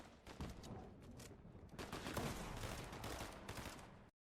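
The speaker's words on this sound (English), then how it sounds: "Like I can hear he has a burst SMG, right?" Rapid bursts of SMG gunfire in the Fortnite video game, repeated clustered shots over about four seconds, fairly loud and dense, ending abruptly.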